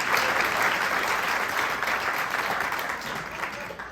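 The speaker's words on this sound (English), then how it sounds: "Can we get one more round of applause" Audience at a storytelling festival applauds a storyteller, a dense, steady wash of clapping that fills the whole stretch and eases off slightly toward the end.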